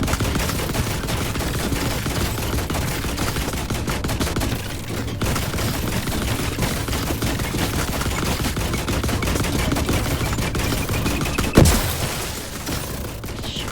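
Dense, loud gunfire fills a firefight in the video game The Last Caretaker. The shots are rapid and continuous, and a sharp blast near the end may be a grenade.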